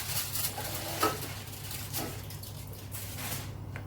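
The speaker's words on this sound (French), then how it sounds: "On va retirer la viande du four." Dishes and utensils clatter in a kitchen as meat is taken out of an oven, with a brief sharp clink early on, soft handling noises and a low steady hum throughout, no talking.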